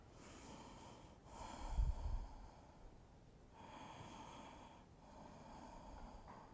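Slow, soft breaths during a yoga forward fold, a quiet rhythmic inhale and exhale with one heavier, rougher breath near the start, faint and close.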